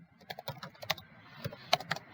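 Rapid, uneven clicking of keys on a computer keyboard, close and fairly quiet, heard alone in short bursts.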